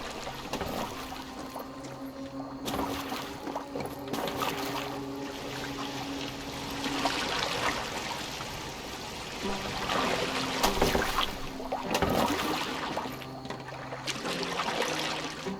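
A boat glides over water in Assassin's Creed Valhalla, a continuous wash and trickle of water against the hull rising and falling in waves beneath a steady low game ambience.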